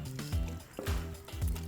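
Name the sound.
squishing peeled Italian tomatoes in pot and stirring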